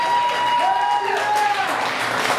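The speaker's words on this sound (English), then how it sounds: "let's hear it for every comic you heard here tonight" Audience applause for the comedians at a stand-up comedy night, a steady, full wash of clapping from a live crowd that holds throughout, with a voice speaking over it briefly.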